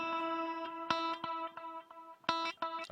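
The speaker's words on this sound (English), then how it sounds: "it's like got just the cave reverb on" Electric guitar notes and chords drenched in a cavernous reverb, with distortion and chorus-like effects, plucked attacks ringing out into long washy tails, played alone at a moderate level.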